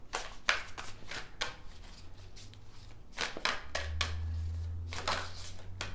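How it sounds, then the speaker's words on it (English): A deck of tarot cards being shuffled up close, with a rapid series of crisp riffling bursts and soft slaps repeating across the whole stretch, alone without talk over a faint low hum. "so I'm going to keep shuffling"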